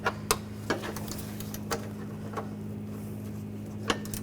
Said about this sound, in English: if you need to, use a 10mm ratchet wrench